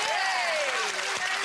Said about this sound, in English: So a little clap for Linda.